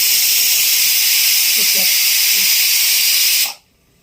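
Pressure cooker hissing steam in a steady loud rush while eggs cook inside, with a few faint voices underneath before the release cuts off abruptly near the end.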